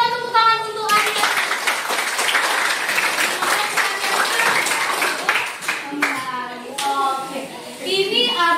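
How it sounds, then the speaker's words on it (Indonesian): Classroom applause at a school teacher-training dissemination session, a dense run of hand clapping between stretches of talk and children's voices at the start and end. "berikan tepuk tangan untuk Anda."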